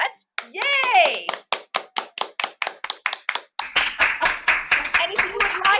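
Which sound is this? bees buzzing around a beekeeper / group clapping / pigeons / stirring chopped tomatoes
group clapping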